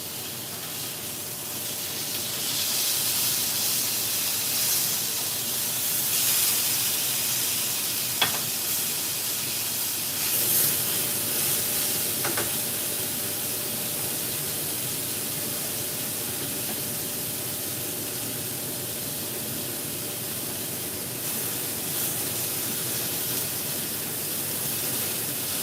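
Steak sizzles steadily in a hot pan, a continuous bright hiss with a few sharp pops and clinks near the middle, with no talk over it.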